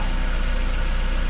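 A 1990-2005 Mazda Miata engine idles steadily after new spark plugs and wires, with a low, even rumble and faint rhythmic knock, no voices.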